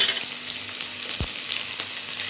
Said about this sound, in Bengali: তরকারিটা মশলা দিয়ে কষতে লাগে